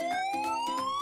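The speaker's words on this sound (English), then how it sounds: "Police van." A police van siren wails steadily in a rising electronic tone, with pulsing repeats roughly every third of a second, loud and close with no voices.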